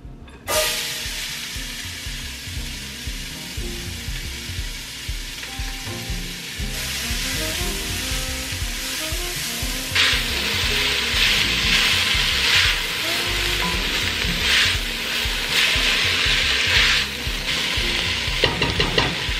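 Vegetables sizzle and fry loudly in a pot after short ribs have been seared, a steady crackling hiss with scraping stirring noises throughout.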